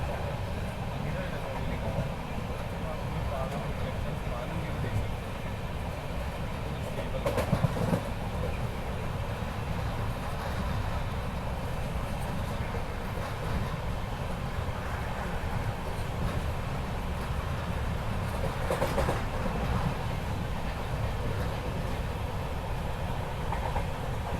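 Steady rolling rumble of a train on the Mangaluru to Goa coastal line in heavy rain, heard from inside a carriage, with a couple of brief rattling surges and faint voices in the background.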